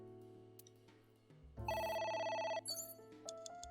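A telephone rings in the video game Ai: The Somnium Files, a loud burst of bright electronic ringing that swells over soft background music and then falls away.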